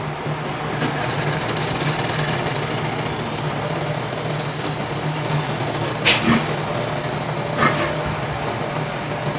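Spindle motor of a Hyundai DVD player, which keeps reporting no disc after its spindle cap was removed and put back, spins with a steady close mechanical hum and whir, with a couple of brief louder ticks partway through.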